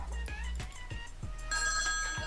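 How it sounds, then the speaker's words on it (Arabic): A telephone rings in a busy room, its repeated electronic trill cutting through a steady low hum over about two seconds, with no one speaking. "جانا تليفون عند بنكاجي تراح"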